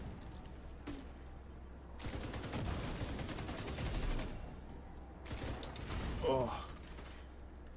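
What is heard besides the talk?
artillery fire in the video game Division 2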